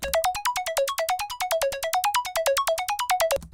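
Fast synth arpeggio in a beat, a rapid stream of bright plucked notes stepping up and down in a steady repeating pattern, clear and prominent with no voices.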